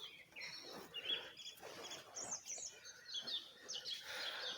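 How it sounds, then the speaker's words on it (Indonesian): Birds chirp and twitter continuously in the background during an evening deer hunt, a faint mix of high calls with no talking. "dengerin musik burung nyanyi itu lor"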